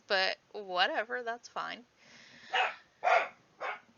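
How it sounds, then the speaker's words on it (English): A pet dog lets out three short barks close to the microphone, each a sharp separate burst, coming right after a man's speech. "Please excuse my dog."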